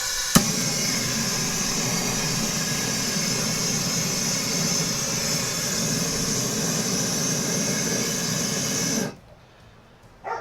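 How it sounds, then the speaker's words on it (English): A propane torch fire starter roars steadily against charcoal in a grill, a loud continuous close hiss after a click of ignition, cutting off abruptly near the end. "I got the fire starter going. You could keep this on the charcoal for 30 to 60 seconds."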